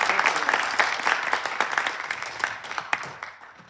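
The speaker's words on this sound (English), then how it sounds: "I think that deserves a little bit of applause." A hall crowd at a talk on the Avon, New York fire department's history gives its firefighters a burst of dense applause that starts full and gradually thins and fades.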